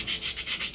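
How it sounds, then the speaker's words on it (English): Hand sanding on a stone carving gives quick rhythmic rasping strokes, about six back-and-forth passes in under a second, close and steady with no voices. "And now sand it. Sanding is my favorite part."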